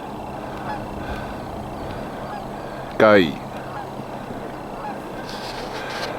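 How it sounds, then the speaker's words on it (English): A ring-billed gull gives a single loud call lasting about half a second, standing out against steady outdoor background noise with no other distinct sounds. "Oh look, a ring-billed gull."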